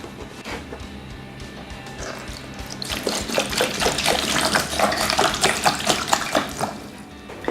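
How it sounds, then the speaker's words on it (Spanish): Distilled water mixed with algicide is poured into a soil tensiometer, a low hum at first, then a close, splashing, gurgling trickle of liquid that continues steadily to the end, with no voices. "llenamos el tensiómetro con la solución de agua destilada y el algicida"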